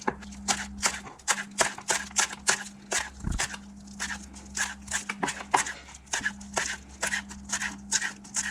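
A knife chops rolled-up chives finely on a cutting board, a quick, steady run of close, crisp taps with brief pauses, and a faint low hum runs underneath.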